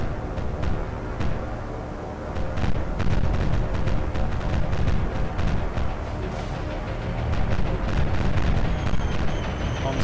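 Bombs burst around a ship in the naval war game War on the Sea, a rolling series of heavy booms and rumbling blasts that swell and overlap over a continuous low roar, no talk.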